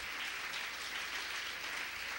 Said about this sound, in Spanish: vamos a regalarle una ofrenda de palmas al Dios de la gloria.